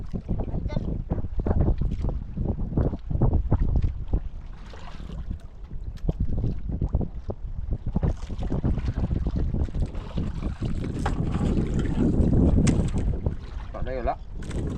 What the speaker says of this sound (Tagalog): Malakas ang alon mga kaidol kasi may bagyo daw.